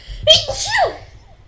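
A single sharp sneeze from a person during a casual music podcast, close to the microphone, rising into a quick tonal burst that trails off in under a second.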